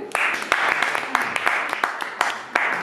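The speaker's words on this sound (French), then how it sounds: "On peut applaudir." Audience applause in a room during a training simulation, heard as close, fairly loud clapping with individual sharp claps standing out, steady across the short stretch.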